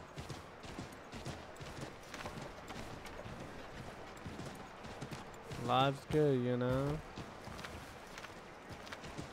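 Rapid hoofbeats of a galloping horse in Assassin's Creed III Remastered pound steadily throughout while someone speaks briefly over them.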